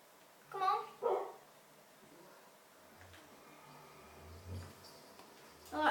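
Two quick, close dog barks from a Minecraft Crazycraft game open the moment, then quieter game noises and a faint thump follow with no talking.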